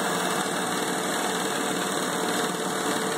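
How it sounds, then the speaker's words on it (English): Motor of a Shopsmith air compressor under refurbishment, running steadily after start-up with an even, continuous mechanical hum and a faint high whine, close and constant throughout. "We'll kick it on. You hear right away it fires up."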